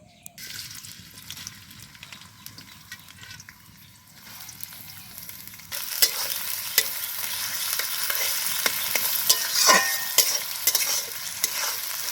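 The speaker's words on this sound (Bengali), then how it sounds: "পেঁয়াজটাকে ভেজে নিব" Sliced onions frying in white oil in a kadai for chicken biryani, a quiet start that swells into a steady, close sizzle around the midpoint, with occasional stirring scrapes and no talking.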